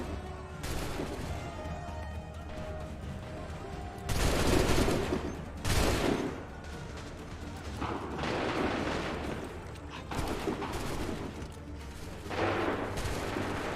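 Massed musket volleys fire in Assassin's Creed 3. Several loud, broad bursts ring out at irregular intervals over a steady battlefield din.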